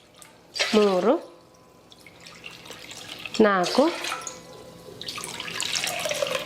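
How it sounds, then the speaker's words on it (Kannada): Water poured cup by cup into a cooking pot, six measured cups for sabudana happala batter, splashing in short bursts between a voice counting aloud. "ಒಂದು ಪಾತ್ರೆಗೆ 6 ಕಪ್ ನೀರು ಹಾಕೋತೀನಿ ರೀ"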